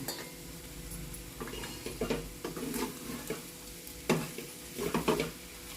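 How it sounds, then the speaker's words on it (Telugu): Prawn fry stirred in a pan on the stove after a sprinkle of garam masala: a soft steady sizzle beneath scraping, clinking spatula strokes that come in small clusters, with no talking. "ఫైనల్గా కొద్దిగా గరం మసాలా అయితే వేస్తున్నాను. ఒకసారి కలిపేసుకుని స్టవ్ ఆఫ్ చేసేసుకుందాం."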